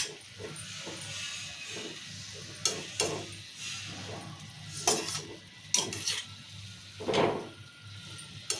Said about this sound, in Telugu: ఇట్లా మంచిగా కలుపుకోవాలి ఈ ఉల్లిగడలు టమాటలు అన్ని ఆకుకూర అంతా కలవడానికి కలుపుకోవాలి